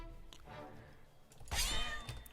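A cat in South Park: The Stick of Truth gives a short, close meow, rising clearly above faint background sounds.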